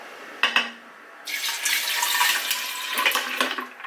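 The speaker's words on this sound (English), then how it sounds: "I'm going to be pouring all of my lemon juice in there" Lemon juice poured into a pitcher of ice cubes for homemade lemonade, a steady splashing liquid stream that starts after a brief clink and runs to the end.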